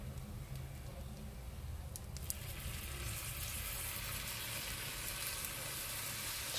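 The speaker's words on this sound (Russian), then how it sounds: "Шипение." Steady hissing sizzle of syrup poured onto fried vermicelli for kunefe in a hot frying pan, a dense crackling wash that holds constant throughout, with a few brief clinks near the start.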